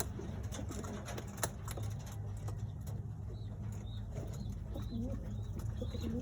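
Young pigeons coo softly from close by in low, repeated burbling calls, with faint chirps and light rustling in a quiet enclosure.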